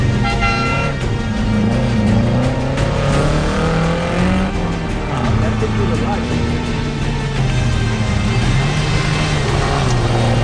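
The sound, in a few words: off-road racing vehicle driving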